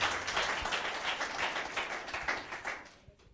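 A classroom of students claps for a classmate, a dense burst of hand claps that carries steadily for about three seconds and then fades out.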